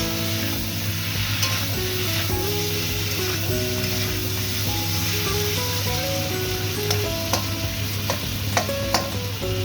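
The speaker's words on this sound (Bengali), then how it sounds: "হলুদ গুঁড়ো দিয়ে দেবো মজা করে কষিয়ে নেব টমেটোর সাথে" Chili and turmeric powder frying with tomato in a pan, a steady close sizzle and crackle with occasional sharp ticks of a spoon, under a constant low hum.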